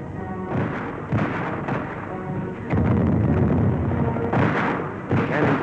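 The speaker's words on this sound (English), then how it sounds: "Cannons thunder" Cannon artillery fire from the Spanish Civil War in 1937, heard as repeated heavy booms and rumbling blasts at irregular intervals, loud and coarse like an old film soundtrack.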